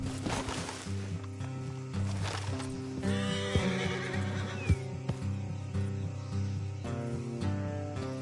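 Horse neighing in the Red Dead Redemption 2 video game, with a loud whinny and a few hoof clops set against steady game music, close and clear, no speech.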